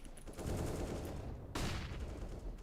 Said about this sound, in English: Throwing a flashbang. I'm throwing a grenade.